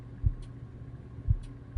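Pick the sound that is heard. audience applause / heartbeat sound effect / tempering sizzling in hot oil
heartbeat sound effect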